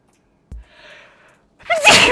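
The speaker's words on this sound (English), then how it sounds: "I'm gonna sneeze." A quick inhale builds up before a single loud, close sneeze bursts out.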